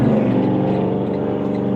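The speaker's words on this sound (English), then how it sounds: "he's getting down on that loud motor" A loud motor vehicle engine with no exhaust runs close by, a steady heavy droning roar with a rough low rumble that holds evenly throughout, no voices over it.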